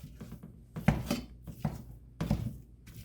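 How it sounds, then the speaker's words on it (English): Sausage pressed and crushed with a utensil as it browns in a pan for casserole gravy: a few soft, dull thuds and scrapes at uneven intervals, fairly close and quiet. "I like to crush all my sausage up."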